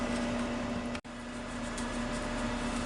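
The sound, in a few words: microwave oven running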